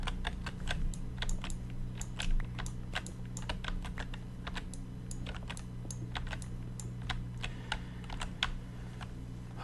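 Fast, continuous typing on a loud computer keyboard gives sharp, close, uneven clicks over a low steady hum, with no talking.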